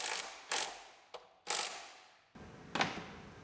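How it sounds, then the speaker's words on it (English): Electric torque wrench tightening the strut nuts on a 2012 Acura TL AWD, heard as four or five separate whirring bursts of about half a second each. Each starts sharply and fades, with short gaps between them. No one speaks. "torque them down with our electric torque wrench"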